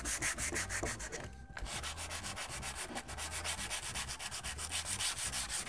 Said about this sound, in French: je vais passer un petit coup de ponçage vite fait avec du grain fin du 120 ou du 150